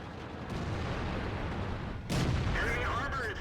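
Tank cannon fire striking an AMX in World of Tanks on the Tundra map: a sharp, loud report near the two-second mark rises above a steady rumbling battle ambience.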